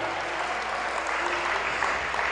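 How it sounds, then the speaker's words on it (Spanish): Church congregation applauding during a Sunday service, a dense, steady wash of clapping from many hands, even and sustained throughout with no break. "Dale un aplauso al Señor con todo tu corazón."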